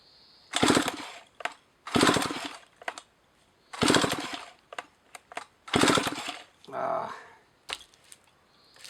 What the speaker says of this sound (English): You never know, it's an old chainsaw.